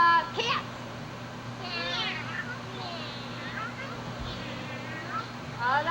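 Children imitate cats in a family home, producing several rising and falling meows in bursts over steady room hum, with some of the voices overlapping.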